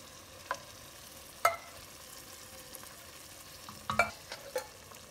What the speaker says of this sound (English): now we have to put in the tomatoes